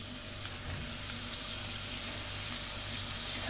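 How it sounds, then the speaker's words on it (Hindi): Onions sizzling in hot cooking oil for mustard greens saag with tuna, a steady dense crackling hiss that stays even and continuous throughout, fairly faint and close, with no voices. "ये गर्म हो चुका है, अब इसमें प्याज शामिल करेंगे।"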